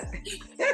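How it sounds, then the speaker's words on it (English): A dog gives one short, close bark, followed by a brief higher yip. "that's that's my dog."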